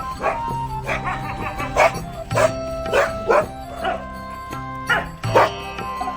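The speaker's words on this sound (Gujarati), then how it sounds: "અમે અત્યારે ડોગીસ ને બિસ્કિટ ખવડાવવા આવ્યા છીએ" Several dogs barking and yipping at night while being fed biscuits, close and loud, with repeated bursts of barks and a few whimpers, and a person calling to them in between.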